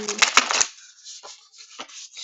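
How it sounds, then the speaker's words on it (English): Shamanic Oracle cards being shuffled by hand, a close burst of riffling and slapping followed by softer intermittent rubbing and sliding, with a voice speaking briefly at the start. "I'm going to shuffle again."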